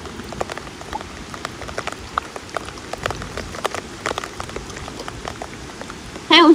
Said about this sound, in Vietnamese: Cơn mưa giữa mùa.